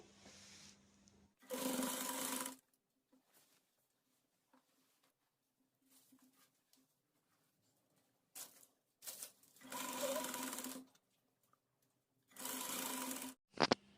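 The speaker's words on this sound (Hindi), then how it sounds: "आधे इंच की सिलाई पे लेते हुए हमें पूरे सर्कल में पेटी को अटैच कर लेना है।" A sewing machine stitches a waistband onto the gathered skirt of a round umbrella frock, running in three short whirring bursts with quiet pauses between, close and fairly loud against a hushed room.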